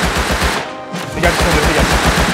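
Rapid automatic gunfire from the video game Rust, a loud, dense burst of repeated shots with a brief gap near the middle before the firing resumes.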